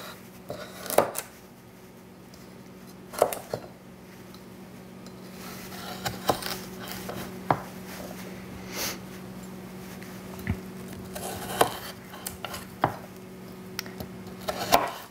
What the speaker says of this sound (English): And so now we want to julienne it. And julienne is a long, thin cut.